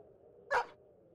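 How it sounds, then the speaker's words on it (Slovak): A dog in the video game Battle Brothers gives a single short bark, clear and mid-loud over a quiet, steady background hum. "Máme psíka."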